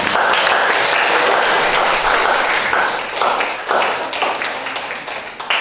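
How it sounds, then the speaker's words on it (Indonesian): Classroom applause for a student named Fania during a teaching performance assessment, loud continuous clapping that gradually becomes more uneven and sparse toward the end. "Tepuk tangan untuk Fania."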